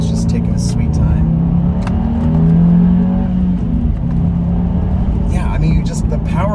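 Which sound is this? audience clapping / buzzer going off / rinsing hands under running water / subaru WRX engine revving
subaru WRX engine revving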